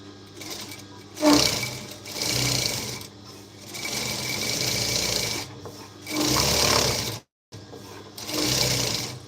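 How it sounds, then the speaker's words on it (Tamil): A sewing machine runs in close, loud bursts as it stitches blouse fabric along a notch, several stretches of steady whirring broken by short pauses. "அந்த நாச்சிலே வந்து தையல் போடுங்க"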